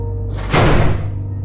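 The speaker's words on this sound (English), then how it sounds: "I saw all the doors leading into the dorm slammed shut with tremendous force" Heavy doors slam shut in a dorm doorway, a single forceful bang with a short reverberant tail, loud and close, alone with no voices.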